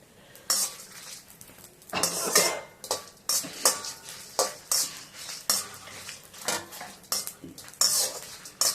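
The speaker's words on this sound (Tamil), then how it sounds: "அதனால நான் வந்து எல்லாமே ஒன்றா போட்டு வறுத்து எடுத்துக்கிறேன்" Spices for puliyodharai are dry-roasted together in a pan, with a spoon clattering and scraping against the metal in quick irregular bursts over a low roasting crackle. No one speaks.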